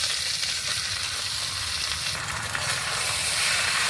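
Boiled vermicelli frying together with potatoes in a pan, a loud, close, continuous sizzle with a bright hiss that holds steady from start to finish.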